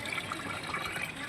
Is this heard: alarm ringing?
no